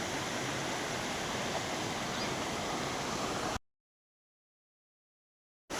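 Water pours down Jogini waterfall near Manali as a steady, dense broadband roar for several seconds, then cuts off abruptly into silence.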